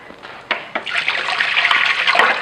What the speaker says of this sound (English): hold on, I wash my hand.